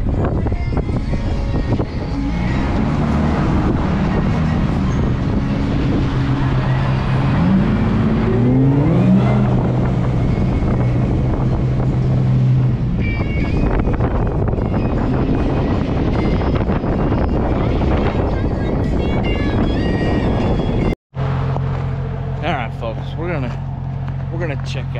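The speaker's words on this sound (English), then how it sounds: "We're gonna go adventure in the Jeep" A Jeep drives along an off-road trail with a steady engine drone and heavy wind buffeting. The engine rises and falls a few times, and people talk over it throughout.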